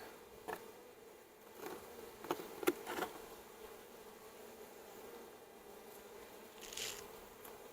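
Honeybees buzz faintly around an open beehive, a soft, thin drone with a few brief louder passes as individual insects fly close, over quiet background rustling.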